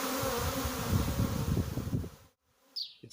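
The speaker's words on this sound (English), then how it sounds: "The colony of bees I collected as a swarm last night have made it through the night." A honey bee swarm collected the night before buzzes as a dense, continuous drone on an overcast mid-May morning in Macclesfield, loud for about two seconds and then cutting out, followed by a brief faint rustle.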